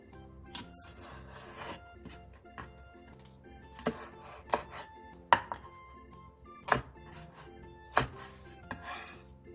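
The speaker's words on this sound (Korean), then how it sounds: "대파 1개 반을 길게 반으로 가른 뒤 3번 정도 길게 칼집을 내 손가락 길이 정도로 잘라주세요." A knife chops a halved leek-like green onion into finger-length pieces on a cutting board, with irregular crisp thuds and scrapes, some louder strikes standing out, close and clear with no talk.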